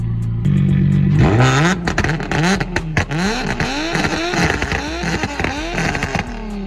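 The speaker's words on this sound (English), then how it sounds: "The turbo just spinning." A turbocharged Nissan 350Z engine revs hard on a two-step launch limiter, loud and close, in quick repeated rising bursts with sharp crackling pops between them and no voices.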